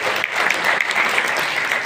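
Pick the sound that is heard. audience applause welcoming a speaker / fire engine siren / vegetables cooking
audience applause welcoming a speaker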